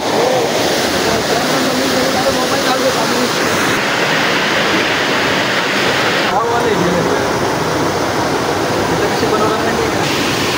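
A monsoon waterfall roars in a dense, constant rush of water, loud and close, filling the whole stretch without pause, with voices faintly beneath it.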